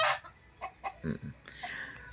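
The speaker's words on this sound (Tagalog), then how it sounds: "Dito sa labas, nakita na natin yung mga manok." Chickens cluck in short, separate bursts nearby, with one sharper squawk at the start and quieter clucks following.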